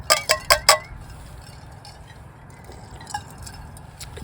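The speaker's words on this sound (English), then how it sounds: "put some ice cubes in there." Ice cubes clink into a glass during September camping in Crested Butte, four quick bright ringing taps in a row, followed by quieter scattered clinks over a low outdoor hum.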